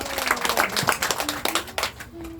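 A church congregation claps along with worship, a steady run of dense, overlapping handclaps rising and falling in waves, with some voices and tonal sounds mixed in beneath.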